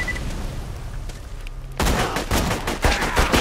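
Bursts of rapid gunfire in Borderlands 2 erupt after a quieter stretch, loud and close: a dense fusillade of cracking shots with heavy booming impacts.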